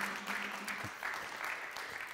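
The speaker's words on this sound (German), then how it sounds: "So, und nochmal einen großen Applaus an Dr." Brief, fairly faint applause from a small audience at a town welcome evening for new residents, a short burst of clapping that carries on evenly through the clip.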